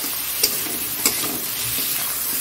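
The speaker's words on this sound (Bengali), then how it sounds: "এটা নাড়াচাড়া দিচ্ছি" A pan of ginger paste, garlic paste and sugar frying on a home stove, stirred with a steady low scrape. Two brief louder scrapes stand out over a continuous close sizzle.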